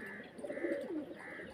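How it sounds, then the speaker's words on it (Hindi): Pet pigeons give soft, low cooing calls, a brief burst of a few coos heard faintly and alone. "ये देखो गाइस हमारे कबूतर उड़ रहे हैं।"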